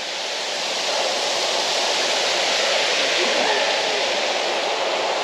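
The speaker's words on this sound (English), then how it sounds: "that's a lovely bit of waterfall" Steady, broadband rushing of a waterfall on Sourmilk Gill, loud and constant throughout, with no breaks.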